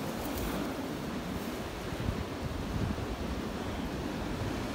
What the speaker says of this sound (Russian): Друзья, зима, море, приятный бриз.